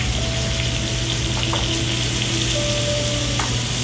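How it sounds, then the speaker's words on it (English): Cod fillet searing in olive oil in a preheated hot pan, a steady close, loud sizzle running unbroken throughout, with a few faint clinks and a thin tonal hum underneath. "the reason that I'm hearing that sizzle is because I got the pan hot before I added the olive oil"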